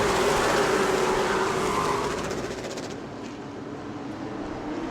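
Race cars run door to door off a corner at the New Smyrna oval, a loud engine roar that fades as the cars pull away, leaving a quieter distant rumble.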